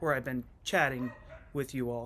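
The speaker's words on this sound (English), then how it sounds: "I don't know if you guys can hear my dog squawking in the background." A pet dog yips and squawks intermittently in the background while a person talks steadily over it in the foreground.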